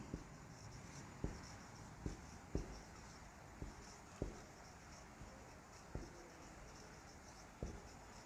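Chalk or marker on a board during an art lesson on ancient art history, heard as faint, sparse taps and strokes spaced a second or so apart over quiet room hum.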